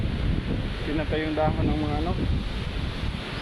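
Wind rushes and buffets the microphone throughout on an island beach after a typhoon, while someone speaks over it in the middle.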